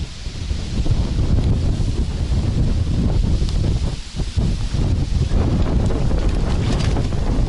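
Strong gusting wind buffets the microphone at a public fishing pond, a loud, continuous roar with rushing gusts and a brief dip near the middle, heard alone with no talking.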